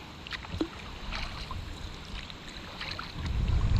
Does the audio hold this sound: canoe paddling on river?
yes